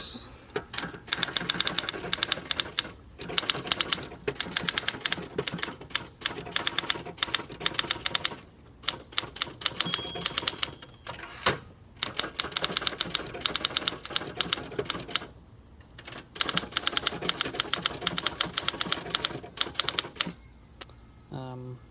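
Someone types outdoors on a 1960 Olympia SG-1 manual typewriter. Rapid bursts of crisp keystrikes run for long stretches, broken by short pauses and occasional carriage-return clunks.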